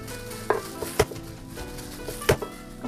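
Kitchen knife chopping garlic cloves that were washed and crushed first, a few sharp, irregular blade strikes on a cutting board against a quiet background.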